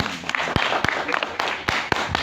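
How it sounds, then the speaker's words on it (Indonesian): Audience applause at a talk, a short burst of scattered, uneven hand claps from a small crowd, fairly close, with a voice mixed in. "Tepuk tangan dulu."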